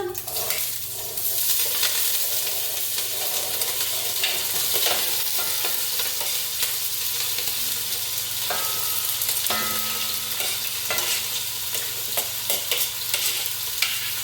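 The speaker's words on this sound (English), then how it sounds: "I'm going to start by frying all my seasonings now just to get it softened up" Seasonings for a vegetarian Trinidad callaloo sizzle steadily in a pot for a long stretch, with occasional clinks and scrapes of stirring.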